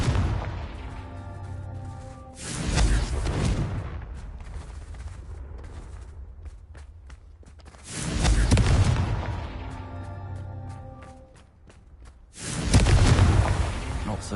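Three loud blasting-spell explosions from Hogwarts Legacy, each a broad booming burst with a rumbling tail, spaced several seconds apart over a quieter game ambience with a faint voice.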